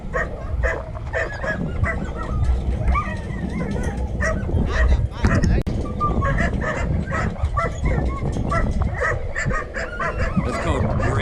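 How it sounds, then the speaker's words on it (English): Excited greyhounds bark and yip continuously before a race, dense, loud and close, with voices and crowd noise mixed underneath. "Hear the dogs, they get all excited, and you know they're getting ready to chase that fake rabbit."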